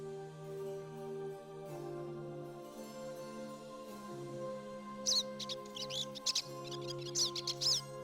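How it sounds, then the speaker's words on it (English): Game birds in Star Ocean: Till the End of Time chirp in short, bright bursts over a sustained musical soundtrack, the twittering calls arriving in quick clusters in the second half. "And the birds are awake."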